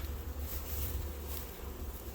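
A dense, steady drone of honey bees buzzing close by as a hive is opened for a late February inspection, a continuous low hum with no pauses.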